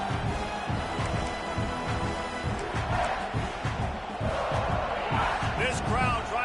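Stadium crowd roaring in the NCAA College Football 26 video game during a Louisville vs South Carolina exhibition, a dense, constant wall of cheering and noise with a commentator talking over it.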